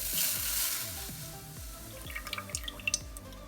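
Heavy whipping cream poured into a pan, a soft liquid glug and gurgle with repeated descending bubbling tones, followed by a few light splashes and drips near the end.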